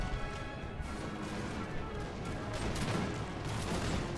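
Napoleonic musket infantry in Napoleon Total War fire scattered volleys, a dense crackle of shots and clashing battle noise that is loud and continuous, with a voice talking over it.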